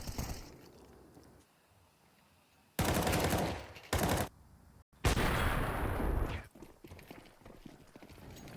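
Gunfire rattles through a Counter-Strike match on the Overpass map in a professional tournament semi-final, arriving as several loud, dense bursts of shots over a quieter background.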